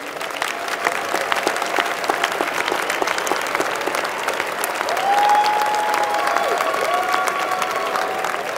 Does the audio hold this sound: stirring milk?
no